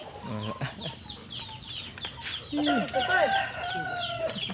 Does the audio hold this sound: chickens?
yes